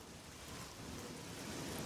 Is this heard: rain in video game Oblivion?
yes